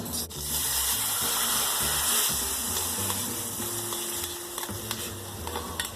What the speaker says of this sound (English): Let's get a little bit of this ginger right into the oil.